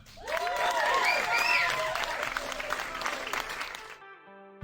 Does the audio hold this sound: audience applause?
yes